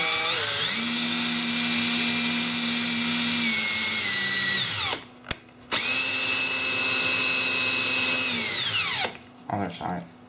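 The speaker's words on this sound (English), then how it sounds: "Now, if I take the drill," A power drill whirs loudly for several seconds, briefly stops, then spins up again for another long run before winding down; close and steady.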